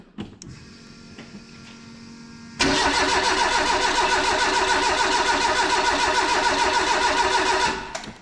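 Renault 5 GT Turbo being cranked on its first start, a quiet pause then a loud, sustained rhythmic starter whirring for about five seconds with rapid pulsing cycles, cutting off abruptly at the end.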